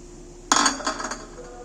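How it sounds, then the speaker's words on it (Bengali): A hundred grams of peanuts tumble into cooking oil, a sudden clattering burst followed by a few quieter rattling hits that fade within a second. "এখানে আমি একশো গ্রাম চীনা বাদাম নিয়েছি বাদামগুলো আমি তেলের মধ্যে দিয়ে দিচ্ছি"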